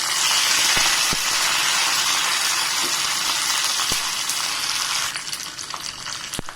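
Curry leaves hitting hot oil in a kadhai for a tempering after mustard seeds, giving a loud, steady, close sizzle with scattered sharp crackles that eases slightly near the end.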